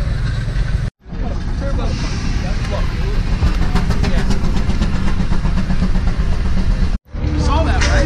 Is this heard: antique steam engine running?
yes